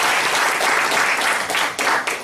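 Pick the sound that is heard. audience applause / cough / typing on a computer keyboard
audience applause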